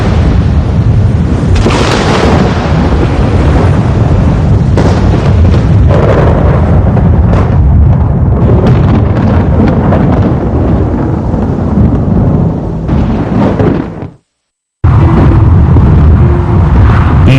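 Loud, sustained rumbling thunder from a lightning strike rolls on for many seconds with heavy crackling peaks, cuts out briefly near the end, then resumes.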